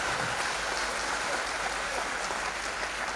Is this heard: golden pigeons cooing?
no